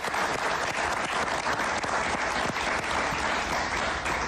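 A television studio audience claps for a guest's family on a talk show, sustained close applause of many hands, thick and even throughout with no talking over it.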